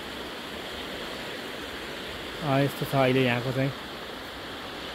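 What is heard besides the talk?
river flowing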